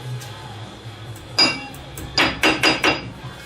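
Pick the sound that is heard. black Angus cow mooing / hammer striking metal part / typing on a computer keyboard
hammer striking metal part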